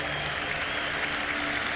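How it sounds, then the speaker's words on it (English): A crowd at a Dota 2 tournament, The International, applauds steadily in a large arena, a dense continuous wash of clapping and cheering. "Crowd, one more time for Insania and Liquid as they make top 3 at the International"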